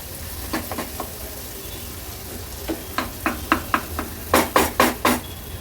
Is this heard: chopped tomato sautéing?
yes